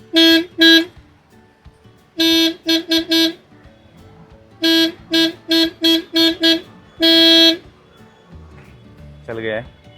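A Maruti Suzuki WagonR 2024 car horn honks repeatedly in short bursts and longer blasts, loud and close, after a settings and wiring problem is fixed, with a brief voice near the end.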